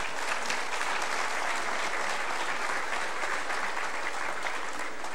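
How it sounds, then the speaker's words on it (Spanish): Sustained applause from a large assembly at the swearing-in of the Indigenous Governing Council, a dense, steady wash of many hands clapping at once, moderately distant and even throughout with no voices. "Un aplauso."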